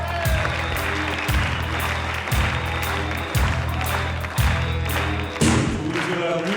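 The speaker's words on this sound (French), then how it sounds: "Charlie et Lulu, applaudissements." TV studio audience applauding two performers as a song starts, with continuous clapping over a pulsing, thumping music beat that repeats about once a second.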